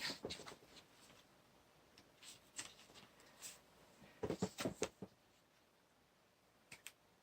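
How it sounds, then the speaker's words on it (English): Several quick, dry papery rustles, soft and close, with a dense cluster in the middle and a couple of faint flicks near the end. "And page turning."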